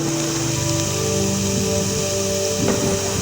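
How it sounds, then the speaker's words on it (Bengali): Ridge gourd pieces frying in hot oil with spices for a Bengali jhinge posto, a loud, steady hiss of sizzling with a faint tonal hum running underneath. "ঝিঙ্গাগুলো দিয়ে কিছু সময় ধরে ভেজে নিব"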